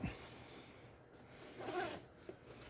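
A zipper is drawn closed along a bag, a quiet close-up zipping rasp that rises briefly in the middle, with small handling clicks around it and no talk.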